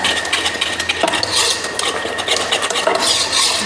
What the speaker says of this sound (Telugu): ఇప్పుడు దీన్ని బాగా కలపాలండి ఉండలు లేకుండా